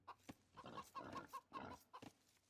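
Chickens cluck in the Age of Empires video game, a quiet string of short, rhythmic clucks with a few soft bursts around them.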